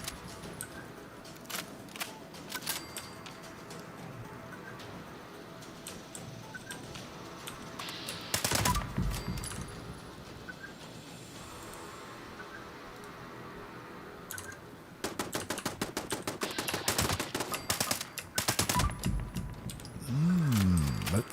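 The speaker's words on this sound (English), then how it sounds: "Close enough for the turret to fight. Nice. Go, turret, go." An automated turret fires its gun in the Fallout 76 video game. Loud broadband bursts of gunfire come in separate clusters against a steady game background, with no talking.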